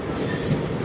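A metro train rolling past near an elevated station on the way out of Jaipur, a steady close rumble of wheels on rail with faint high squeal, continuous and fairly loud throughout.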